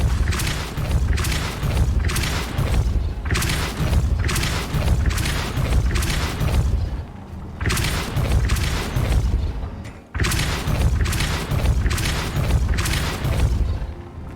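Repeated Depulso spell blasts in the Hogwarts Legacy video game, booming force bursts that land in a loud, near-continuous series of heavy thumps with only brief gaps.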